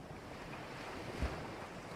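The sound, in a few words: ocean waves on a deserted beach in Bahia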